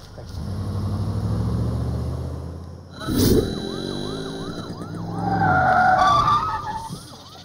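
A car in a Hindi comedy film scene skids to a stop with a loud screech, followed by wavering siren-like tones and squealing, with no talk.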